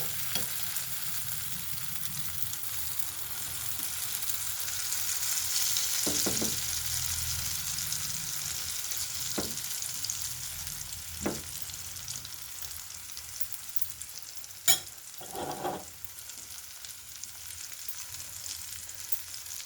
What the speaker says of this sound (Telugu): ఆమ్లెట్ వేసేస్తున్నాను.